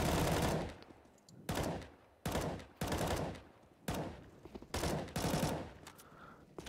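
Repeated gunfire bursts from a tactical shooter video game, five or six loud volleys in quick succession with short gaps between them, each burst dense and sharp, heard alone with no voices.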